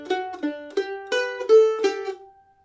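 Mandolin picks out the second bar of Fisher's Hornpipe, a quick run of bright plucked notes in a steady beat with the last note left to ring and fade.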